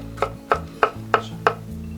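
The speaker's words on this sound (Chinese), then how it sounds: "胡萝卜也切成小粒。" Knife chopping carrots into small dice on a cutting board, five sharp evenly spaced chops close up, with a low steady hum beneath.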